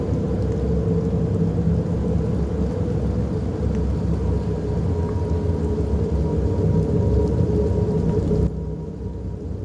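Steady heavy rain pours down with low rumbling thunder rolling beneath it in a stormy scene from the horror game Fears to Fathom, continuous and loud throughout, easing slightly near the end.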